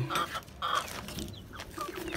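A hen clucking in short repeated bursts, fairly soft, against a noisy outdoor background.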